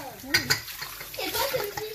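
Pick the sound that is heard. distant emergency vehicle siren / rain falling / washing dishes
washing dishes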